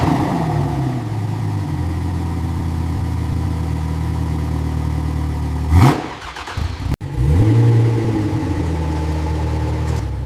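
A rebuilt, formerly fire-damaged Ferrari F40 engine idles close by, then is blipped in sharp revs that rise and fall, with a brief cut and a renewed idle and rev afterward.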